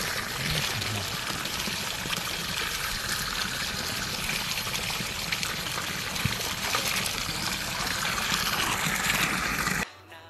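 Water pours and splashes steadily from a bucket during an outdoor bath, a continuous loud gushing that stops abruptly near the end.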